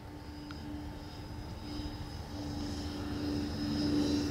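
An Arrows RC Marlin 64mm electric ducted-fan model jet passes by under throttle, its steady high-pitched whine and rushing hum slowly growing louder as it nears.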